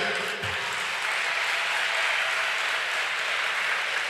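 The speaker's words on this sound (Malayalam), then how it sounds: "എല്ലാവരും ശരിക്കും കൈയടിച്ച് അച്ഛൻ" Audience at a church stage programme at St. George Orthodox Valiyapally, Kalanjoor, clapping in a dense, loud, sustained burst of applause filling the hall without any speech.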